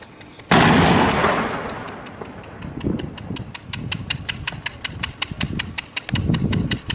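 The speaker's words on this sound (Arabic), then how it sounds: "رمي بالهاوين على مقر شبيحة النظام في جنوب المدينة" Mortar fire in Talbeese strikes a headquarters: a single loud, sudden blast that rolls off over a couple of seconds, followed by a run of sharp rapid clicks and rattling thuds.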